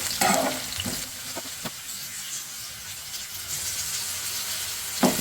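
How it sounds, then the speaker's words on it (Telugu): Slit green chillies and onions fry in oil while being stirred, a soft, continuous sizzle with scraping spoon strokes, louder at the start and end. "మంచిగా ఆయిల్లో ఇలా వేగుతూ ఉంటే అప్పుడే ఆ ఫ్లేవర్ వస్తుంది"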